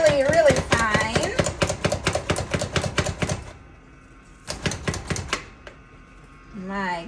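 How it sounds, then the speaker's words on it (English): A knife finely chops onions on a kitchen mat with rapid, regular, close tapping strokes. A pause follows, then a few more chops, and a voice is heard briefly at the start and end. "you can chop onions on its own cap, or you can just chop them on a mat"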